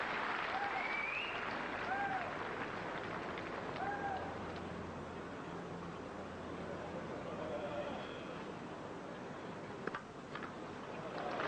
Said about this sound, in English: That's a good substantial crowd at Edgbaston here, giving him a warm reception.